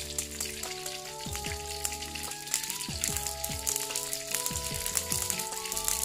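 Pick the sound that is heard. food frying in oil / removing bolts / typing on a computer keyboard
food frying in oil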